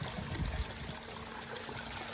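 Water trickles and splashes through a small red gold trommel at a campground, with a brief louder gurgle at the start settling into a soft, steady flow.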